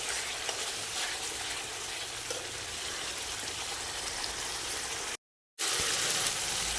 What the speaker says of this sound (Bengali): মশলার থেকে এই যে তেল ছেড়ে দিয়েছে, তার মানে মশলাটা ভাজা হয়ে যাচ্ছে